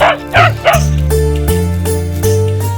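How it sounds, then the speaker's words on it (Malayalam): A German shepherd gives three quick, loud barks, close by, followed by a sustained droning tone. "അയ്യോ അയ്യോ ജർമ്മൻ ഷിപ്പേഡായിരിക്കും ഭയങ്കര ശബ്ദത്തിലല്ലേ കുറച്ചത്"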